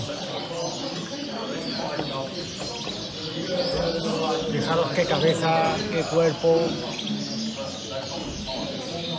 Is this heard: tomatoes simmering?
no